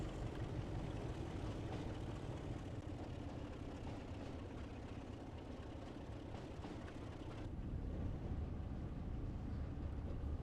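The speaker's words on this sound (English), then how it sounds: "It's just a beautiful sounding engine." A locomotive engine in the Train Sim World game rumbles continuously, a dense, steady mechanical drone with a low throb that shifts slightly in tone partway through.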